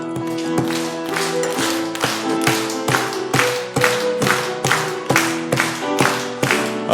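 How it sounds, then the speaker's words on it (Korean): A church congregation claps in rhythm while singing a joyful hymn, sharp regular hand claps landing on each beat over sustained sung melody, loud and close. "우리 박수 치면서 기쁜 마음으로 합니다."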